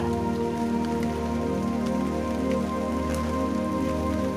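Steady rain falls across a surface, a dense, even hiss with a low rumbling bed and no clear individual drops, continuous and fairly soft for the whole stretch.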